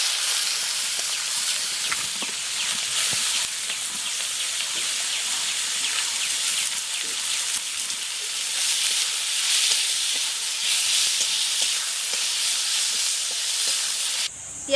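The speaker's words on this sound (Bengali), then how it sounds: "এবার পেঁয়াজ কুচানোগুলো দিয়ে দিচ্ছি" Chopped onions dropped into hot oil with whole garam masala and cumin for a chicken curry, giving a loud, continuous hissing sizzle close by that holds steady throughout before cutting off abruptly.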